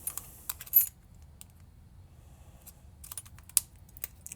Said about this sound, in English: Put back this trim kit.